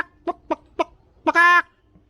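Bush turkey calling, a few short clucking notes followed by a longer, harsher squawk, fairly close and alone.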